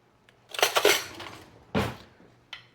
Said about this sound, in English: I am going to scoop the innards out of these so we can use them as a bowl